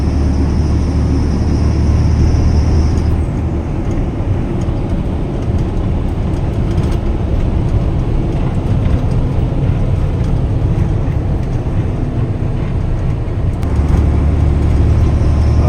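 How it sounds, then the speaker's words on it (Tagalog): A Shacman truck's engine labours as it climbs uphill, a loud, steady low drone that holds throughout with little change, close to the listener and with no talk. "Aahon na yung sasakyan natin. So, puro paahon na to."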